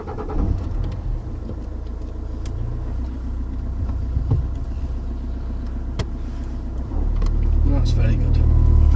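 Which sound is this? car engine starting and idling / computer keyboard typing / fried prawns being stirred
car engine starting and idling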